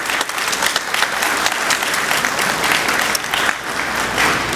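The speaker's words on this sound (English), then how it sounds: "Let's give them all a round of applause." Steady, dense applause from a crowd at an employee retirement dinner honoring retirees, sustained at an even level throughout with no break or voices standing out.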